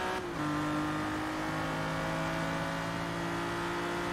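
A Lamborghini Reventon, a 12-cylinder car in the racing game Forza Motorsport 3, revs hard after a short pause, its engine settling into a sustained, loud, buzzing high note that holds steadily throughout.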